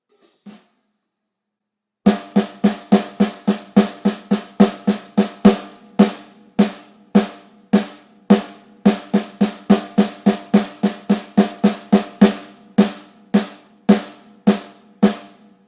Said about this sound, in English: So I am going to play a triplet on my snare drum